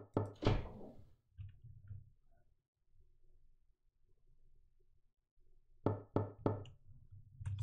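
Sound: knocking on the apartment's front door, from a video game

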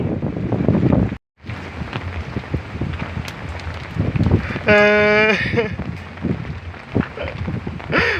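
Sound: wind and rain

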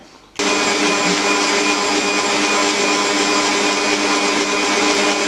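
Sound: electric mixer whipping room-temperature butter for cream

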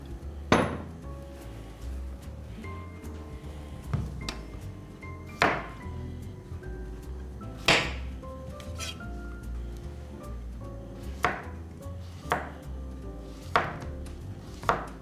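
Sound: slicing zucchini with a knife

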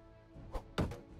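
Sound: cart wheel being destroyed in Medieval Engineers video game

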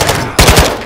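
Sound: gunfire in video game Call of Duty Modern Warfare II DMZ

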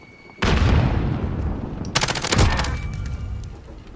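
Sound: gunfire in video game Call of Duty

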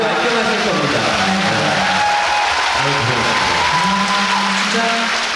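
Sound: audience applause at a concert

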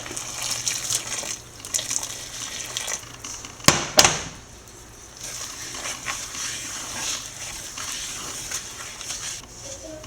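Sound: boiling water poured into roasted rice flour

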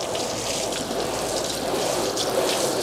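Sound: water rinsing off a caravan

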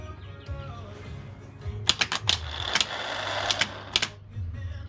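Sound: starter motor for Toyota 1KZ engine spinning slowly on bench test

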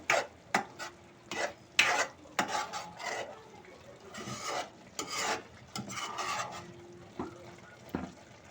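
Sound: stirring masala with Kashmiri red chilli in milk

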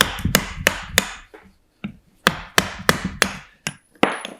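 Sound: chisel splitting sapwood off a wood bowl blank

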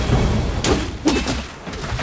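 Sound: fire blast explosion attack in video game Black Myth: Wukong

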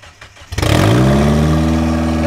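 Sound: Mazda Miata engine revving after idle fix

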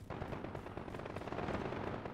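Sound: gunfire in Call of Duty Modern Warfare video game

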